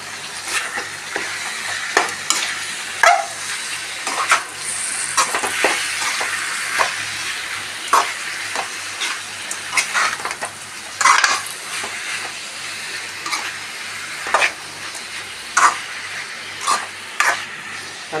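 Cooked breadfruit (kadachakka) being stirred into fried masala in a pan for thoran, with repeated scraping spoon strokes against the pan over a steady frying sizzle, close and moderately loud.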